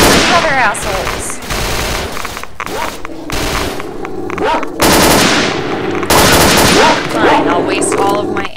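Gunfire in the shooter STALKER: Oblivion Lost comes in rapid automatic bursts, loud and close, separated by short pauses and overlapping echoing shots, with a voice speaking over part of it.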